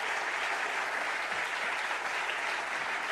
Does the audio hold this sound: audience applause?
yes